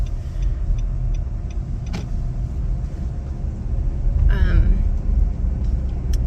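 Car driving through the small town of Hibbing, Minnesota, a steady low road rumble and engine hum heard from inside the vehicle with faint ticking, constant throughout.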